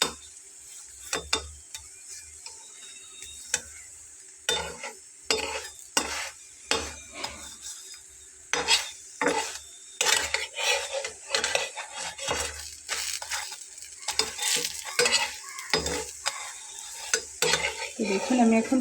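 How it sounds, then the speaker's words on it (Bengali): An egg paratha fries in a pan and is flipped to crisp reddish-brown on both sides; repeated spatula scrapes and metal clanks come in irregular bursts over a continuous sizzle, close and fairly loud. "এপিঠ ওপিঠ দুটো পাশে একটু কড়া লাল লাল করে ভেজে নিতে হবে"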